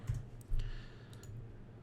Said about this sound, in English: And I'm just right-clicking, by the way,